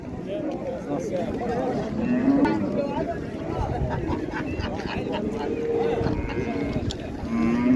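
Cattle lowing at a busy livestock bazaar in Qarshi, several drawn-out moos rising over a dense crowd murmur, with people talking nearby throughout.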